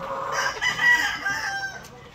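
A laying hen clucks and squawks close by, a short burst of agitated calls with no other sounds.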